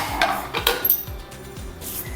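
A metal pressure cooker pan lands on a stovetop with a few short clanks and scrapes, close and fairly sharp, with no one talking.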